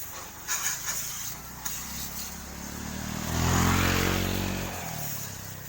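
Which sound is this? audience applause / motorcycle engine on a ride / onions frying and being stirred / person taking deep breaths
motorcycle engine on a ride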